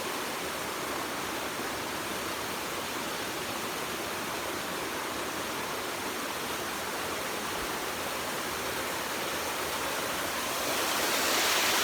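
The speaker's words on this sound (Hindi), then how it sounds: "यह है वाटरफॉल।" A jungle waterfall roars in a constant, loud, broadband rush, steady throughout with a slight swell near the end, and no voices.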